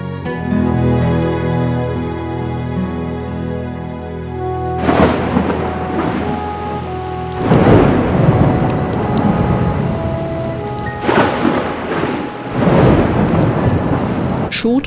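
A heavy tropical rain shower over an old town in Trinidad, with loud, dense rain hissing steadily and several deep thunder rumbles rolling in one after another.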